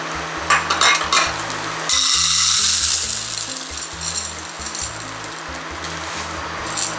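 Corn is stirred with slaked lime in a pot to make nixtamal, giving a steady scraping, sizzling stir with light clinks of the utensil. The stirring sounds close, and a low hum runs underneath.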